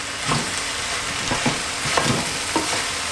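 Spices and rosemary stirred in a frying pan, a steady close sizzle broken by several scraping strokes of the spoon across the pan, with no talking.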